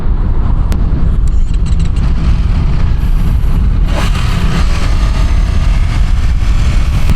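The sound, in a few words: Ducati Panigale V2 sport bike being ridden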